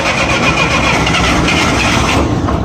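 An old Clark forklift engine cold-starts on full choke, cranking into a steady, loud mid-pitched run that continues throughout with no pause.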